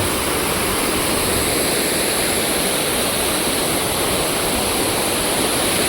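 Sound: village river flowing at a small dam

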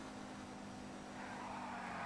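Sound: car driving and drifting in the video game GTA V

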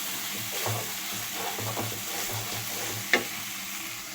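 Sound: stirring green chilies frying in pan

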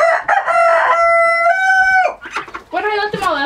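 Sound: chickens clucking and crowing

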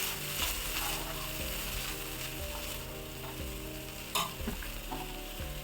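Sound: stirring butter with pav bhaji masala in a pan

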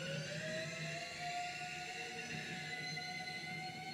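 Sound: Arctic icebergs rubbing against each other

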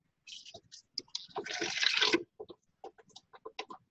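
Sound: blended butternut squash soup poured into a stock pot

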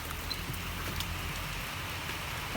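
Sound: rain falling

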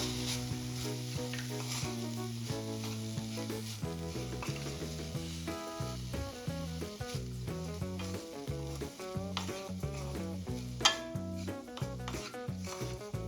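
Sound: mixing chicken filling with soy sauce in a pan

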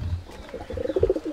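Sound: pigeon cooing

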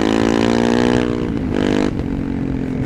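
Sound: Honda CRF300 motorcycle with tuned exhaust revving

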